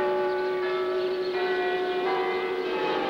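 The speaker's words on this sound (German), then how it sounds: "Das Glockenspiel der alten Garnisonkirche." The carillon of the old Garrison Church in Potsdam rings a slow melody of sustained, overlapping bell tones, loud and clear with no voices over it.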